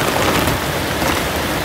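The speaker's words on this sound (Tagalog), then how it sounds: "Nabutan na tayo ng ano? Ulan." Steady rain falling outdoors at a fish corral by the sea, a dense, even hiss of drops with no talk over it.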